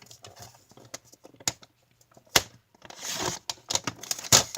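Scissors snip through paper for a handmade journal: a series of sharp, close clicks and crisp cuts in irregular bursts, with a longer rustling stretch partway through.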